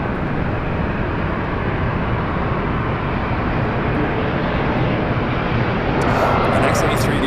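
A Boeing 767 airliner departing LAX for JFK roars with a loud, continuous jet engine rumble that stays steady and close, a voice briefly heard near the end.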